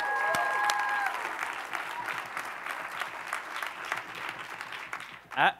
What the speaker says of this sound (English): How about one more round of applause for Sarah McMiniman?